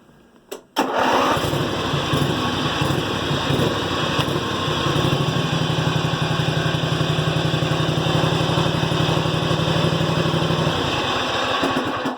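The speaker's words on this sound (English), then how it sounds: "she's running on 2 cylinders just like she's supposed to" A two-cylinder engine on the Goofy Cart II kicks over and catches, then runs steady and loud with a fast, even buzzing beat, close up.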